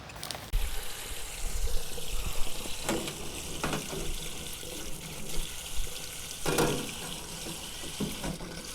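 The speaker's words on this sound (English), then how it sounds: "Got water coming out of the same pipe" Water gushing steadily out of a drain pipe while a blocked drain tile is being cleared, a continuous close splashing flow with a few louder surges and thuds, and no talking.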